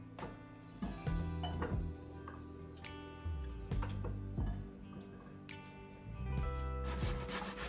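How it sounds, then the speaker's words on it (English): Carrots rubbed against the small holes of a grater for a carrot cake, a close, quiet, rhythmic scraping with repeated strokes and light knocks throughout. "I'm using the small holes on the grater to get the carrots nice and fine for the cake."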